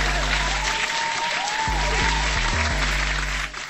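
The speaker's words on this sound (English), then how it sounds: "Hand clap for that." Audience applause during a blockchain gaming presentation, steady broad clapping running under background music with shifting bass notes, fading slightly at the end.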